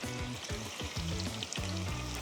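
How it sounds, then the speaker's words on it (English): Plantain slices fry in light rice bran oil at medium heat, giving a close, steady crackling sizzle with irregular pops throughout. "I'm using a very light rice bran oil to fry it."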